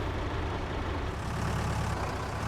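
A tractor engine in Farming Simulator 22 drones at a steady low idle-like rumble, close and continuous with no variation or speech.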